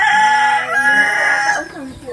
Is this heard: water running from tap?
no